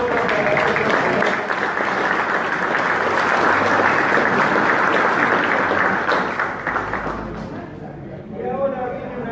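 Sustained applause from an audience at a historical talk in Talleres, loud and steady for about seven seconds before thinning out, with a few voices surfacing near the end.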